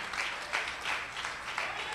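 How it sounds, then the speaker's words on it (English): A church congregation claps their hands in praise, a full, steady patter of many hands with soft rhythmic surges. "clap your hands and give God praise"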